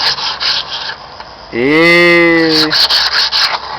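Hand-sanding a car bumper produces rhythmic, close rasping strokes of sandpaper, interrupted midway by a sustained, tonal vocal sound lasting about a second.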